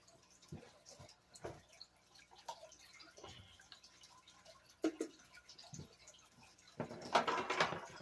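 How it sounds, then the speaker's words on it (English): Water drips from wet gold-panning clay paydirt onto a pad in scattered soft, close taps, ending in a brief louder burst of running splashes. "Don't worry about it dripping."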